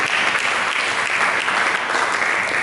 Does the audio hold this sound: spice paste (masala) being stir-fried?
no